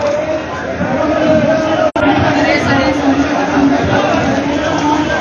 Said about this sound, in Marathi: त्यांच्या समर्थकांनी या परिसरामध्ये आता मोठी गर्दी केलेली आहे